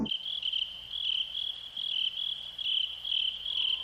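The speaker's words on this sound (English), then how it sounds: "Recorded by engineer Glenn Kolotkin in his backyard, the sound of crickets is haunting and refreshing" Crickets chirp in a backyard at night, a steady high trill pulsing in close, regular bursts over a quiet, still background.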